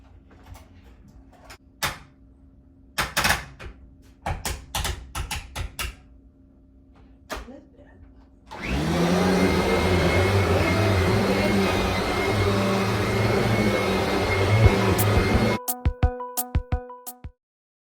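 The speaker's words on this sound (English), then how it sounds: "I'm gonna vacuum" A household vacuum cleaner starts up after a run of knocks and clatter, then roars loudly and steadily for about seven seconds before cutting off abruptly, followed by a few sharp clicks.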